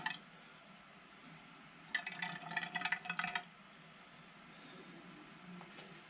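Motorcycle fork oil pours into the fork tube of a Suzuki GSX-R inverted fork during a seal and bushing rebuild, a brief liquid gurgle and splash of about a second and a half, close and moderately loud over a quiet room.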